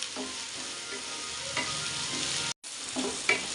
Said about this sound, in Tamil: இது பொன்னிறமாக வதங்குற வரைக்கும் வதக்கணும்